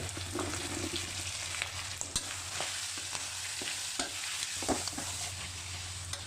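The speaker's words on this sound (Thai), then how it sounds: "ก็ผัดสตอให้เม็ดใสขึ้นมาก" Pork belly with shrimp paste and stink beans being stir-fried in a hot pan: a steady, close sizzle broken by scraping stirs and occasional clicks of the utensil, with no talking.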